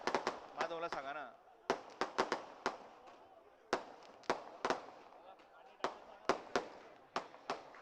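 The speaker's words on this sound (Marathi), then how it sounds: "फटाके वाजवणाऱ्यांनी फटाके वाजवायचं थांबवा" Sharp firecracker bangs go off one after another at a crowded outdoor political rally, cutting through steady crowd noise and a voice on a loudspeaker.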